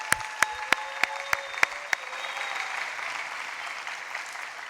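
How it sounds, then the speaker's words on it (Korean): A church congregation at a Wednesday worship service gives a round of encouraging applause, opening with several sharp, evenly spaced claps and then settling into a softer, continuous patter of many hands. "다음 세대를 위해서 격려의 박수를 한번 보내드리도록 하겠습니다"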